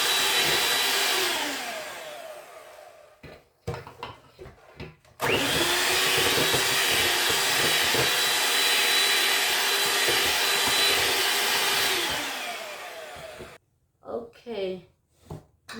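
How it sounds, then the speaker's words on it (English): Electric hand mixer beating sponge cake batter, a steady loud whir with short stop-start bursts at first, then a long continuous run before it cuts off and brief handling sounds follow, with a voice talking at moments. "I'm gonna mix about 10 minutes."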